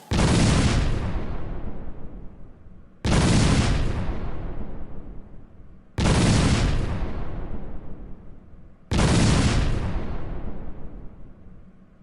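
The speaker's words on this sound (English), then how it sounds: "The fireworks show is now starting." Four loud, identical booming bursts from a 4th of July fireworks show, each striking sharply and then decaying over about three seconds before the next hits, evenly spaced and with no talk.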